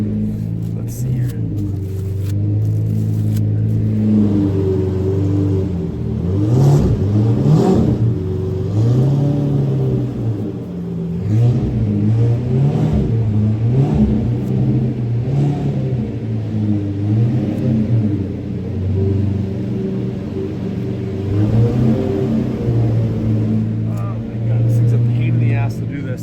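McLaren F1 GTR race car engine idling and revving lightly during a slow three-point turn, a deep rumbling drone with gentle rises in pitch, close and loud, with people talking over it.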